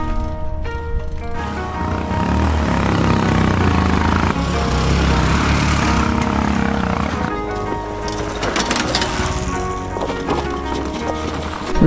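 Small Honda MiniMoto motorbikes riding off-road toward a summit, their engines buzzing and revving loudly and continuously, with bumpy rattling underneath and no clear talk.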